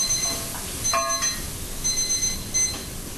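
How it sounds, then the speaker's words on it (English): A kitchen timer alarm rings in short repeated beeping bursts while a roux cooks, the tones clear but moderate over low kitchen background noise, with no talking. "Turn off the timer."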